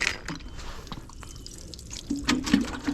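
Water pours and splashes over a DJI Action 3 camera, a close trickling and dripping that swells into louder splashing in the last second.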